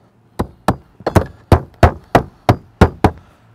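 Hammer driving nails into a cedar shake shingle on a roof, about ten sharp, evenly spaced wooden knocks in quick succession, close and loud with no talking.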